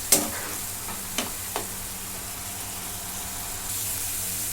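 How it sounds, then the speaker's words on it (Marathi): Pav bhaji vegetables sauté in a pan over a high flame, a constant crackling hiss with a few sharp spatula knocks early on, close and steady with no talking. "कच्चापणा घालवण्यासाठी मोठ्या गॅसवरती दोन मिनटं परतून घेते"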